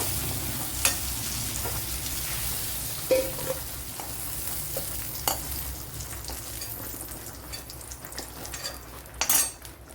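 Ingredients for a Kerala-style ayala (mackerel) fish curry sauté in a pan with a steady, soft sizzle. Occasional sharp clinks of a spoon stirring against the pan break through, and no one speaks.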